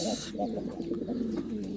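Pigeons in a loft coo in soft, repeated throaty rolls at close range, with a faint hiss of background noise and no talking.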